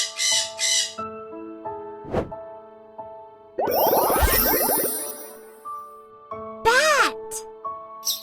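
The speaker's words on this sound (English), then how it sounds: "Parrot" Parrot squawks come in several loud, harsh bursts and rasping calls alongside other bird sounds, mixed with a bright melodic jingle and a spoken word from a children's bird-name game.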